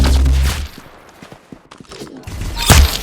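Bursts of gunfire from the Roblox game Arsenal, loud close shots at the start and again near the end with quieter scattered shots and steps between.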